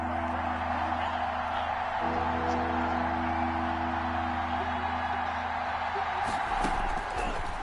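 A stadium crowd roars steadily in a PS4 American football game ahead of a big third down, a dense continuous wash of cheering with a brief louder swell near the end, under game commentary.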